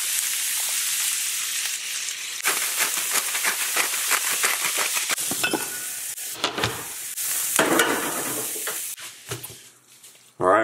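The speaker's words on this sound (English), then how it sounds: "just cook these down for a little bit, just sweat them down just to get them a little bit soft" Vegetables sizzle and hiss steadily in a hot pan as they sweat down for beef sliders, with close, continuous frying crackle broken by stirring scrapes and a voice speaking over it.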